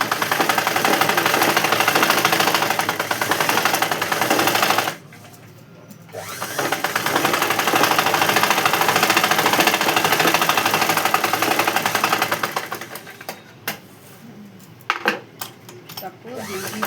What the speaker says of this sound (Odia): ତାକୁ ଦୁଇଟା ସିଲେଇ ପକେଇବ।